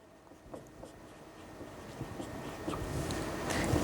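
Writing on a board during a maths lesson: faint, close scratchy strokes come in short bursts over a low background hiss that slowly grows louder, with no voices.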